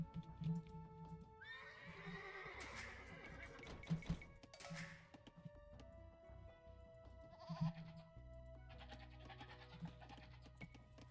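Horse neighing in the Age of Empires video game, several whinnies and snorts over a backdrop of game sound effects and other animal bleats, heard clearly with no talk.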